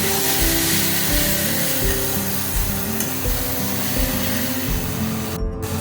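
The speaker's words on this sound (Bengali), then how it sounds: "চামচ আদা বাটা দেবো দিয়ে এটাকেও ভালো করে মিশিয়ে দেবো" Ginger paste is stirred into a sizzling rohu fish curry with papaya, a steady loud frying hiss with spoon scraping throughout and no voices.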